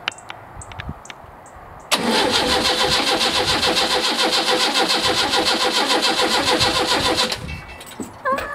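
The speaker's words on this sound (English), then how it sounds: "It won't start because there's no petrol in it, but it turns over." A Bedford CF van's engine cranks over without firing, a loud, fast rhythmic churning of the starter that runs steadily for about five seconds, then cuts off, preceded by a few faint clicks.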